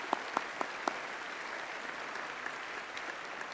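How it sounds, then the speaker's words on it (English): Sustained applause from a large audience at a university graduation ceremony, dense steady clapping filling a hall, with a few sharper nearby claps standing out early on. "So I think that again needs a round of applause."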